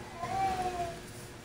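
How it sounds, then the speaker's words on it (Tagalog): A neighbor's cat gives a single drawn-out meow from a short distance during home cooking. A faint steady background hum runs underneath. "Ang ingay ng pusa sa kapitbahay."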